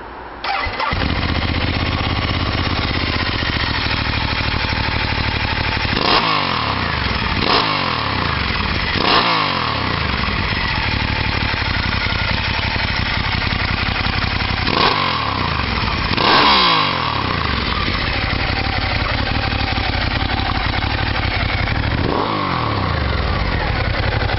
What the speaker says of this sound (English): One last thing to do is let you hear that fantastic Terbiganoni pipe